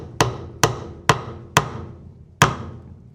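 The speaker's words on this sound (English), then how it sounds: "Small hammer is all you need." A small hammer taps a dovetail key into an aluminum stretcher frame for a floater frame, giving five sharp, close, ringing knocks at a fairly steady pace with a slightly longer gap before the last.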